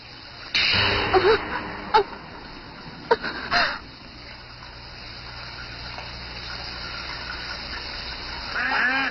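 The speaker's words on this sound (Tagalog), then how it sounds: "Bakit parang may gumagamit ng shower?" A shower runs in an animated drama scene, heard as a steady, fairly faint hiss of falling water that continues throughout, with a few brief sharper sounds near the start.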